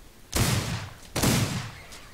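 Two loud gunshots fired at a goat in the Old West video game Outlaws of the Old West, each a sharp broadband crack with a decaying tail, spaced about a second apart.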